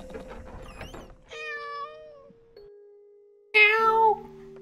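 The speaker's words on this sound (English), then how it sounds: "Meow." A cat in the horror video game Layers of Fear meows several times, clear drawn-out meows separated by short pauses, with the last one loudest and nearest.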